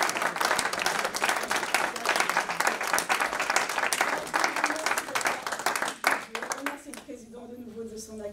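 A conference audience at an international organisation in New York claps loudly and steadily for several seconds. The applause thins out toward the end as a voice starts speaking.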